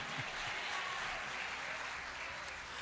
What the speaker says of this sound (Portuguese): Aplaude a esse Jesus